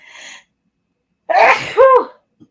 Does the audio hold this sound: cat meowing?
no